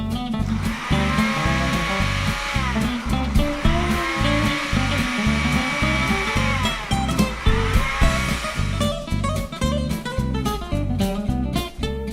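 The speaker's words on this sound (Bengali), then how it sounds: "আবারও ব্লেন্ড করে নিচ্ছি।" An electric kitchen blender whirs loudly and continuously while mixing homemade orange Tang-style drink powder with food colouring, its motor pitch rising and falling as the dry contents churn, close up with no voices.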